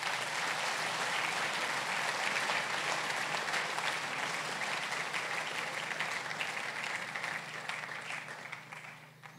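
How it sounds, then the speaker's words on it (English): An audience at a school prize giving ceremony applauds the staff with sustained, even clapping that fills the room, a dense wash of many hands that stays steady and slowly thins toward the end. "give our staff a round of applause for their contribution"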